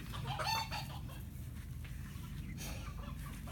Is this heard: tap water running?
no